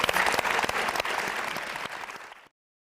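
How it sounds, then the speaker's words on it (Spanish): An audience applauds event guests at the close of a panel, a dense burst of clapping that fades over a couple of seconds before cutting to silence. "les brindamos un enorme aplauso a nuestros invitados"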